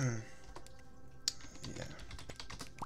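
Quiet, sparse keystrokes on a computer keyboard, a handful of light clicks spread across a few seconds under faint, soft talk.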